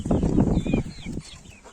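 A large rooster clucks close by in a farmyard, a few low throaty bursts followed by softer calls, with no talk over it.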